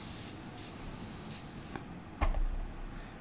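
Spray paint hisses steadily from a can onto custom Nike Air Force 1 sneakers in light blue, a close, continuous spray with a few brief pulses before it stops, followed by a soft knock.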